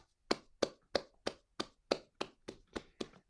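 Applause at an online poetry and music reading, heard as roughly ten sharp, regular hand claps at a steady pace, near and distinct, with no talking.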